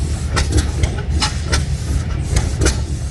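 Old stationary engines, including a 22.5 horsepower drilling engine from Grove City, chug at a tractor show, their low rhythmic puffing steady beneath sharp intermittent bursts of outdoor noise.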